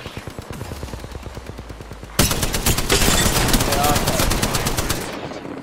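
Video game gunfire: rapid automatic shots, first lighter and spaced, then a loud dense burst of continuous firing lasting several seconds before easing off.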